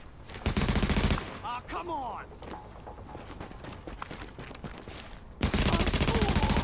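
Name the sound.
gunfire in video game The Division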